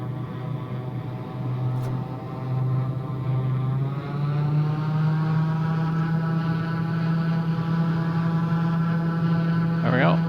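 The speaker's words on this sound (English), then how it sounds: "go full prop RPM and throttle up to 2000 RPM" Twin turboprop engines of a Piaggio P180 in Microsoft Flight Simulator 2024 run up to 2000 RPM, a steady loud drone with a low hum that rises and strengthens, then holds evenly throughout.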